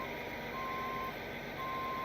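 A 50-ton crane reversing through brush to line up at the front of a truck, with a steady high backup beep repeating over a loud, continuous engine rumble.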